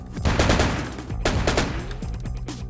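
Gunshots in Vampire: The Masquerade – Bloodlines, a series of loud, close, punchy reports fired in quick succession.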